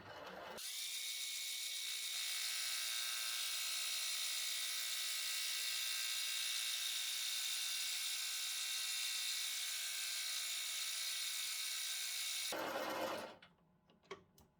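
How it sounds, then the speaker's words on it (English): Steady, high-pitched whine of a small machining cut removing material from a rocker arm part for a Wallaby 30cc model engine, running loud and continuous for about twelve seconds before stopping abruptly, with faint handling clatter after. "So the first thing I'm going to do is remove the material on the outside and start making the shoulder feature around the nut."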